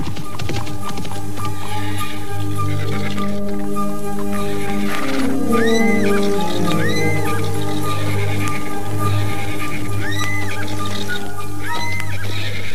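Horses neighing and whinnying over clip-clop hoofbeats as three riders leave a palace on horseback, with steady hoof rhythm and repeated whinnies under a continuous musical drone.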